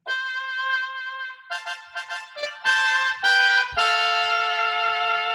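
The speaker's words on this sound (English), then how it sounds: "let me select the sound of a trumpet." A synthesizer trumpet voice plays a melodic line of held and short notes, clear and up front, with no talking.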